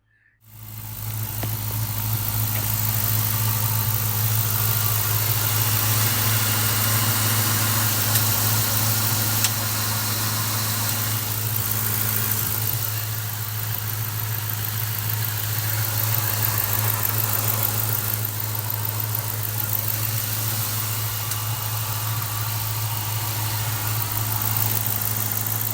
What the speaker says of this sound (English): We'll cruise on in and get a sound of the engine at idle.